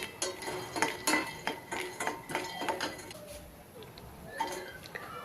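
Peanuts roasting in a pan on a stove are stirred with a spoon, producing quick light clinks and rattling scrapes in short bursts, close but quiet, followed by a calmer stretch with occasional taps.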